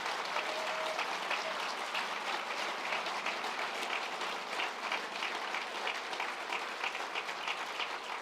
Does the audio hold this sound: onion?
no